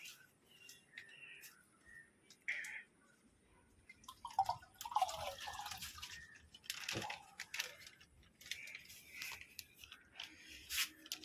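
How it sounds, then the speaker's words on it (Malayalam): Water being poured into a small tank while releasing a betta fighter fish, heard as faint, irregular drips and splashes with scattered clicks over a quiet background. "നമുക്ക് നമ്മുടെ ഫൈറ്ററിനെ നമുക്ക് ഇതിനകത്ത് ഒഴിച്ചു കൊടുക്കാം."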